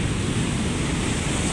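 Large sea waves driven by Typhoon Kristine pound the shore at Calintaan, Occidental Mindoro, as a dense, unbroken roar of surf mixed with wind buffeting the microphone, loud and steady throughout.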